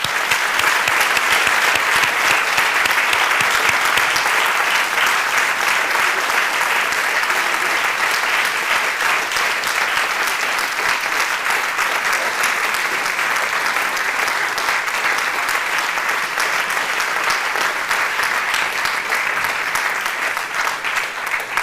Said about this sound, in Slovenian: Mi pa vam bomo še enkrat glasno zaploskali.